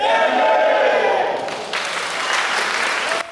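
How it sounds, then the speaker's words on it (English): A Muay Thai class in Thailand, lined up with joined hands after training, breaks into a loud group cheer that fades into scattered clapping and crowd noise. "We line up once again, join hands, and cheer."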